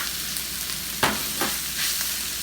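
Cooked rice sizzling in a hot pan for fried rice, a dense continuous crackle with a sharp hiss burst as it lands and a couple of smaller flare-ups.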